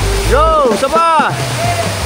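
Creek water rushes steadily beneath loud, excited voices calling out on a motorbike loop through the northern Philippines.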